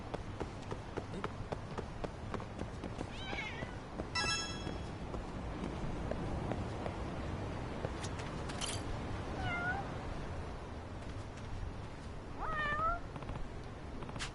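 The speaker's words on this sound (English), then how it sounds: "There's a kitty." A cat meows several times in short upward-sweeping calls scattered over a busy, noisy game-stream background, with a brief voice-like burst partway through.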